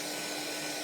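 A heat gun drying paint on handmade earrings gives a steady, loud blowing hiss with a constant broadband airy rush and no variation, heard alone up close.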